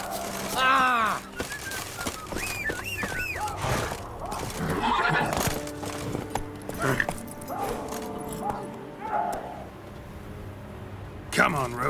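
Roach, Geralt's horse in The Witcher 3, gives a clear whinny near the start, with a few more short neighs and faint hoof and game ambience around a voice talking.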